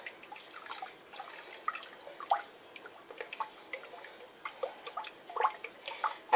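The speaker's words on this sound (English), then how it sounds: "We'll add our goat milk." Goat milk being poured into a soap mixture, giving soft, irregular drips and small wet splashes that are quiet and close, with no talking.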